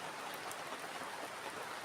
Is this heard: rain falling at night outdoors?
yes